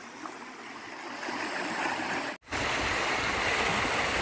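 Continuous rushing water of a waterfall in Bueng Kan, Thailand pours steadily, a full broadband roar with a brief dropout partway through.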